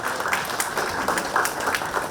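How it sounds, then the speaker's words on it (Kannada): Audience applause at a festival stage during a community lamp festival event, a steady wash of many hands clapping throughout, moderately loud and continuous with no talk over it. "With a big round of applause please ladies and gentlemen."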